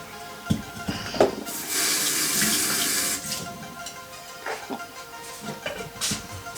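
Water runs from a tap into a cup at a kitchen sink for about a second and a half, a steady hiss framed by scattered clinks and handling knocks.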